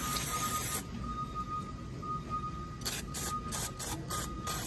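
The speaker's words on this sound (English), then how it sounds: "Get everything soaked with the brake clean" Brake cleaner is sprayed from an aerosol can onto a Kawasaki V-twin engine during oil leak diagnostics, producing a long steady hiss followed by several short bursts.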